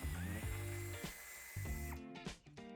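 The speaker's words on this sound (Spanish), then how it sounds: "Retiraremos la tuerca." A power tool removes a nut while fitting a tow hitch on a Volkswagen T-Cross: short whirring bursts that start and stop several times, close and fairly loud, with no talk.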